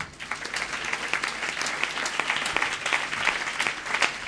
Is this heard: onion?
no